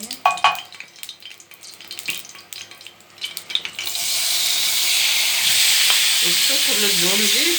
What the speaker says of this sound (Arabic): نشوحها بقى كده شوية.